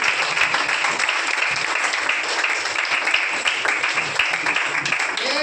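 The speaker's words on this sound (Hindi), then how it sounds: "ताली बजाओ सर।" Steady, dense audience applause at a leadership development seminar, many hands clapping together continuously at close range without a break.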